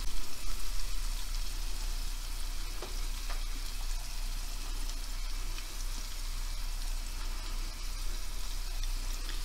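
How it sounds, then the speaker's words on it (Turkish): Peppers sauté in a pan, giving a loud, constant close-up sizzle with faint crackles throughout and no voices. "Biberlerimiz de çok güzel sotelendi."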